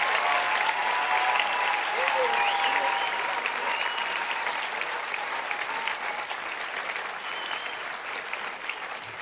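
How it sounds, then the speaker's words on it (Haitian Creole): An audience applauds steadily inside a church service, a dense wash of clapping that holds for several seconds before gradually thinning and fading, with a few voices faintly audible beneath. "On les applaudit encore une fois."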